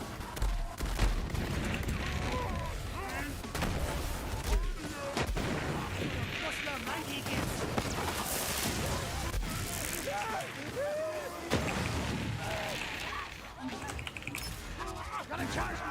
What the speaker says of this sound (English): I'm blowing myself up.